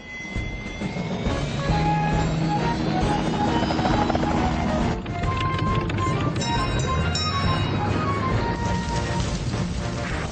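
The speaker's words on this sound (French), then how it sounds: "On va avoir besoin de Tom Thomas et de son hélicoptère" A cartoon helicopter's rotor drone runs steadily for about ten seconds under a bed of music, loud and continuous with no pauses.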